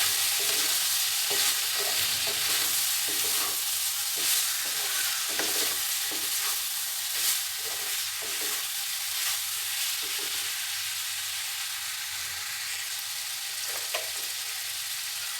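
Vegetables stir-frying with a little chili and ground cumin in a pan, a steady close sizzle with repeated scraping and stirring strokes throughout, no voices.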